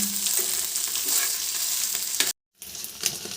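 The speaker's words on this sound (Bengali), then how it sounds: "এই আলুর দম থেকে আলু তুলে এখন আলু ভাজা করছি" Steady, crackling sizzle of potatoes frying in a pan, broken by a brief silent gap before the frying resumes.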